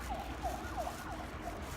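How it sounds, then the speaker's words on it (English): Emergency vehicle sirens wail faintly in the distance in Houston, their repeated rising and falling sweeps carrying over quiet outdoor background noise beside a pond. "And that's Houston for you, sirens."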